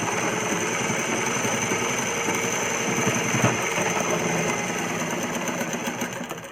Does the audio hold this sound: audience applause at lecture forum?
no